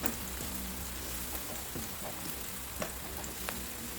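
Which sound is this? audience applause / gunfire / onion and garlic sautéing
onion and garlic sautéing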